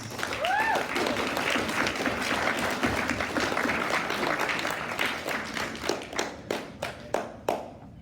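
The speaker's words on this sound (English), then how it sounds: "Good strong clap." Audience applause at a student red carpet gala for Excellence in Leadership Award nominees, a dense crowd clap that thins into a few scattered, distinct hand claps toward the end, with a brief voice early.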